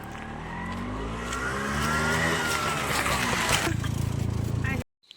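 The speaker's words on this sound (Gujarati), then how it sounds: "પાછળ જો રિક્ષા આવે" An auto rickshaw comes up from behind on a rough, dangerous village road, its engine rising and growing louder as it nears, with a voice talking over it before the sound cuts off abruptly.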